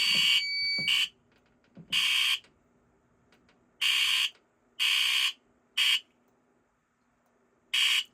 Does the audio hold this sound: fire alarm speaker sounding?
yes